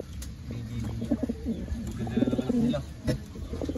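Pigeons in a backyard loft at dusk give soft, low, rolling coos in several bursts, close by, while someone talks over them.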